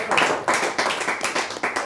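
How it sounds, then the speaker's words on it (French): A small studio audience on a local TV talk show claps for a guest singer-songwriter, giving a short burst of close, rhythmic hand claps. "alors je crois qu'on peut applaudir déjà."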